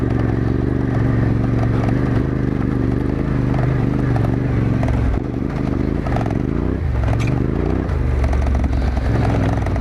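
A 2021 Yamaha Tenere 700 motorcycle rides over deep gravel, its engine droning steadily up close with a continuous crunch and clatter of stones under the tyres, shifting slightly in pitch midway.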